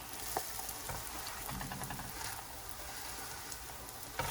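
Korean potato pancake (gamjajeon) fries in a pan over low heat with a soft, continuous sizzle and faint crackles, quiet and with no talking.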